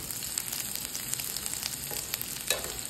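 Garlic sautés in butter and olive oil with a bright, continuous crackling sizzle close by, broken by scattered small pops and a louder spatter near the end.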